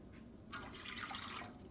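A cup of water poured into a jar for pickle brine, a soft steady trickle of liquid that starts abruptly and runs on quietly to the end.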